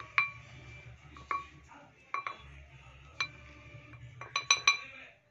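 A spoon clinks against a bowl while custard powder is measured out, with about a dozen sharp, ringing taps at irregular intervals and a cluster of quick clinks near the end.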